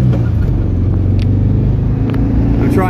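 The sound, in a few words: 1978 Volkswagen Beetle Convertible driving on test drive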